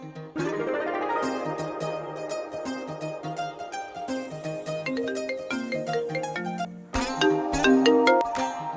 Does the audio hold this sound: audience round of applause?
no